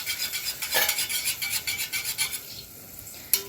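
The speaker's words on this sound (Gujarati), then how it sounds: "હવે જો સાઈઝ ચણાનો લોટ નાખીને એમાં હલાવી નાખીશ" Gram flour is being stirred into a mixture in a pot, with a rhythmic scraping, rasping rub of a spoon against the vessel, repeated quickly and close by, ending with a sharp knock.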